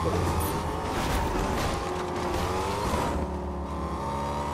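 A car in the Fortnite video game drives continuously with a steady engine drone and revving beneath layered game noise, mid-level and constant throughout.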